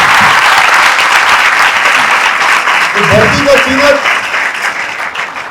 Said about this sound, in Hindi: एक बार किसानों के लिए तालियां बजा दो